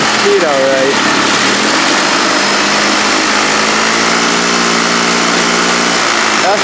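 A car engine runs steadily at about 3,600 RPM, a loud, even hum close to the microphone, with a person briefly talking over it near the start.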